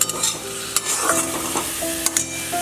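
Onions fry in a pan with cardamom and whole garam masala, a steady sizzle broken by several sharp spoon scrapes and clinks, without talk.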